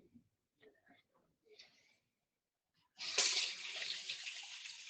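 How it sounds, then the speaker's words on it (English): Hands washed under a running tap, a steady broad rush of water starting abruptly after a few soft murmured voice fragments and continuing close and loud to the end. "Always make sure you wash your hands, please."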